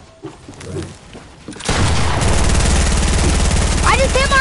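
Gunfire from the video game Fortnite bursts in loudly after a quieter opening and continues as dense, sustained shooting with a few sharp electronic chirps near the end, with a voice briefly heard over it early on.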